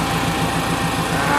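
A turbocharged JDM Honda Fit GD3 idles in neutral with a steady, even engine hum and rhythmic low pulsing, close and fairly loud throughout.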